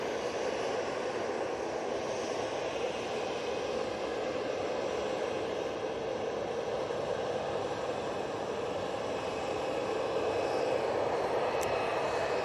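A Ryanair airliner on approach to land at Manchester Airport gives a continuous, even broadband jet rumble and hiss, moderately loud and unchanging throughout, with no one speaking.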